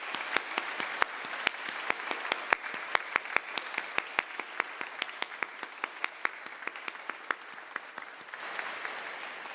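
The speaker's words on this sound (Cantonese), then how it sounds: "我希望大家可唔可以以你哋嘅掌聲同我哋一同表達呢份嘅謝意" A congregation applauds at a seminary's 50th-anniversary thanksgiving and opening worship service: sustained crowd applause with many sharp individual claps standing out, fairly close and even throughout.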